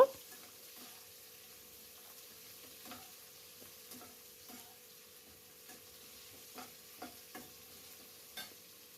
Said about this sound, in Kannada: ಮಿಕ್ಸ್ ಮಾಡಿ ಸ್ವಲ್ಪ ಬಣ್ಣ ಚೇಂಜ್ ಆಗೋವರೆಗೂ ನಾವು ಮಿಕ್ಸ್ ಮಾಡಿಕೊಂಡ್ರೆ ಸಾಕಾಗುತ್ತೆ